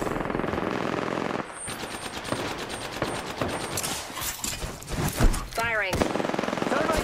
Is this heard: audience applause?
no